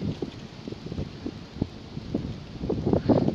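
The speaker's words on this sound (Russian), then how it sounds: "Такой ветер." Strong morning wind buffeting the microphone outdoors, uneven low rumbling gusts that thump and swell, louder toward the end.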